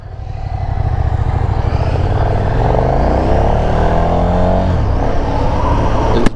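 A KTM SuperDuke 1290 motorcycle engine revving in a parking lot, a loud close growl that climbs steadily in pitch as the revs rise, holding strong for several seconds before easing off near the end.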